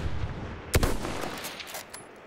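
A rifle fires at a sniper in Battlefield 1, one loud sharp shot near the start followed by a rattle of fainter distant gunfire, all close and punchy.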